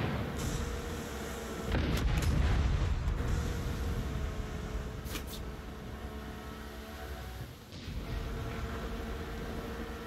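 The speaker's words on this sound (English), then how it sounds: "Check out the fireworks." Fireworks burst in a Far Cry 6 game scene, with a heavy deep boom followed by scattered distant cracks and pops over a steady rumbling backdrop.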